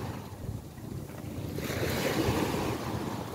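Sea waves wash onto a wide beach shore at a resort in Cavite, a steady, rushing surf that swells slightly louder midway, with wind buffeting the microphone and no voices.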